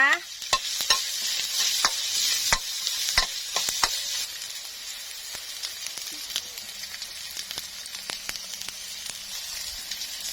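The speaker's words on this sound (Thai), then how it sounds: "พริกกระเทียมค่ะ ลงมาเจียวเลยนะคะ" Oil sizzles steadily in a hot pan as chili and garlic fry for Thai drunken-style stir-fried instant noodles, with sharp clicks of a utensil stirring and scraping at irregular intervals.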